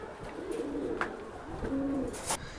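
An original racing pigeon with a pedigree gives soft, low cooing, faint under steady room noise, with a short coo near the end.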